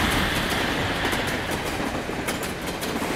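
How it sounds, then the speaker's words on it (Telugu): Sainagar Shirdi Express train rolling at a railway station platform, a loud, close rumble with clickety-clack wheel beats and brief squeals, alone without voices. "సాయినగర్ షిరిడి ఎక్స్ప్రెస్ 1వ నంబర్ ప్లాట్ఫామ్ పై వచ్చి ఉన్నది."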